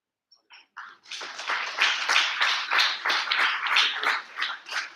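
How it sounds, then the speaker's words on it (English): An audience applauds quiz finalists at a grand finale, starting with a few scattered claps and then swelling into steady, fairly close rhythmic clapping that holds for several seconds. "Huge round of applause, please."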